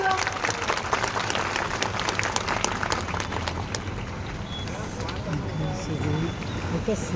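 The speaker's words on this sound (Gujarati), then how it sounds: "જોરદાર તાળીઓ." A crowd at a village gathering for a statue unveiling applauds steadily and loudly for several seconds, a dense continuous patter of clapping with voices mixed in.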